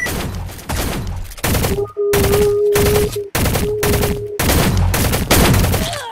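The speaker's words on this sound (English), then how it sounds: "I'm getting kills with this gun." An AK-47 fires in the online shooter Shell Shockers, loud rapid bursts of automatic gunfire, separated by brief gaps, with a thin electronic tone running through parts of it.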